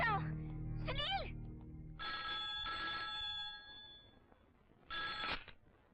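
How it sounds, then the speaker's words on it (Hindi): Telephone in a doctor's room rings in clear, repeated electronic bursts separated by short pauses, loud and close, with a brief voice heard before the ringing starts. "डॉक्टर, आपका फोन।"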